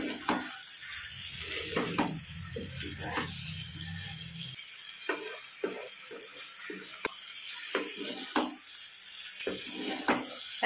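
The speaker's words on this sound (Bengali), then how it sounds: "চলো গরম মশলা দিয়ে কিছুক্ষণ নাড়িয়ে নিলাম।" Potatoes tossed with garam masala in a pan for Bengali shahi aloo dum, giving repeated close scraping and clinking strokes of a spatula with a soft background sizzle and a low rumble early on.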